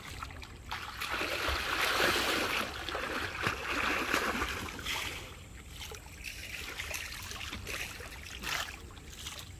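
Water splashing and churning in a swimming pool as a swimmer performs a backstroke somersault turn, a steady broadband wash rising to a peak, then easing into softer splashes and trickles, with no voices.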